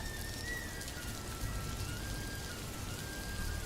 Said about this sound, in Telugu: అయ్యో వర్షం వచ్చేస్తుందేంటి?